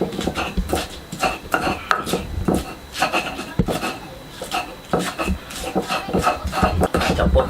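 Spices, including shrimp paste, are ground in a stone mortar with a pestle for fried rice, making a steady series of close scraping, knocking strokes in an irregular rhythm.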